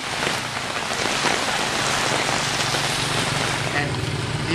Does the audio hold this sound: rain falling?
yes